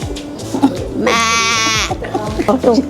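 A goat bleats loudly and close by in a long wavering cry, with brief voices or animal sounds around it in a festive Hari Raya household setting.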